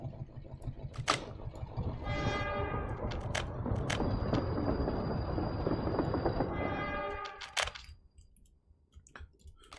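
Trains in the Workers & Resources city-building game make a long, loud rumble of rolling rail cars with horn blasts near the start and end, then fade away.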